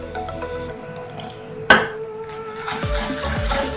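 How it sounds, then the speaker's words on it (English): Water is poured into thick gram-flour pakora batter in a kitchen, giving a short trickle with small splashes and a few soft plops as the liquid hits the paste, near and moderate in level. "This is still thick, so I'm gonna add more water."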